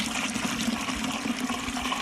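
Maple sap pours steadily into a boiling pan in a backyard Ohio syrup setup, a continuous close rush of liquid with a low hum and no talk.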